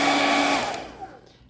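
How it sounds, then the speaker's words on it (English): Hair dryer blowing hot air onto a dartboard segment, a close, loud whirring rush that fades quickly over a second and a half. "I'm going to use a hairdryer and heat up the segment like this."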